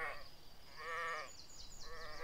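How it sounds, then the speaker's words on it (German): Sheep in a survival video game bleat in three wavering calls, close and fairly loud, with short gaps between them. "Ich höre dich doch. Das ist bestimmt das gleiche Schaf."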